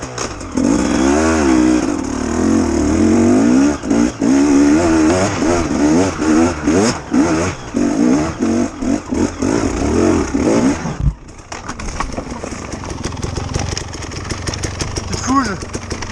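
A used, not-new motorcycle ridden off-road through brush roars loudly and continuously with strong revving, then drops to a lower, rougher engine rumble after about eleven seconds.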